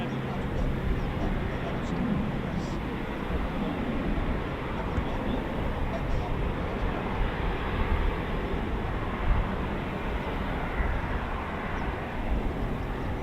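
A Eurofighter Typhoon FGR4 taxis at RAF Coningsby during evening flying, a broad steady rumble and whine heard from a distance and held for the whole stretch without break.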